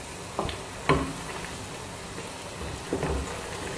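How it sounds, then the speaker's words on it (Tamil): Onions, chilies, ginger and garlic fry quietly in a nonstick pan for a Punjabi potato curry, a soft hiss with a few scattered taps and pops of a spoon stirring. "பாருங்கள், ஃப்ரை ஆகிக்கிட்டே இருக்கட்டு"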